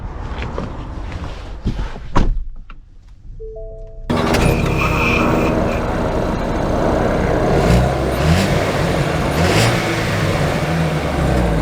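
A 2024 Ford Bronco Sport Badlands SUV starts and pulls away after a few quiet knocks and a door thud, its engine rising into a loud, steady drone close by.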